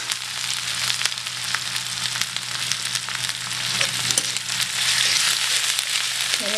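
Ginger and green chilli paste frying in a pan, a loud steady sizzle with crackling spits and faint stirring, heard alone without speech.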